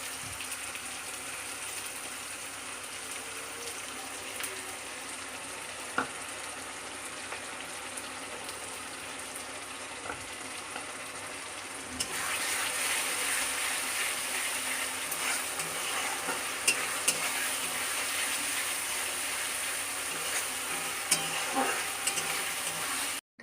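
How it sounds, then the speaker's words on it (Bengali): Ground spice paste frying in a pan with onions and tomatoes for a Bengali fish-head dish, a steady sizzle with occasional stirring clicks that grows noticeably louder and denser halfway through. "এবার বেটে রাখা মশলাটা দিয়ে দেব।"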